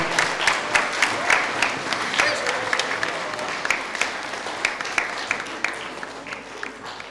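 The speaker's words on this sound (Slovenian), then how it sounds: "dajmo gospodu Igorju en aplavz" A church-hall audience at a Maribor altar servers' gathering applauds a man being thanked, steady dense clapping from many hands sustained throughout at moderate distance with no voices standing out.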